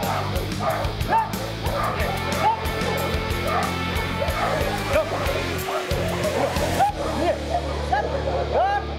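Dog barking in short yips and bow-wows, mixed with high whimpers, fairly close and continuous, while people talk over it.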